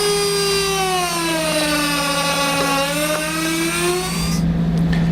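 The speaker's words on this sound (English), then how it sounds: "We're going to use a cutoff wheel to do so." A cutoff wheel whines loudly and steadily as it trims a vehicle's bumper fascia during a base plate install, its pitch sagging and rising under load before it spins down near the end.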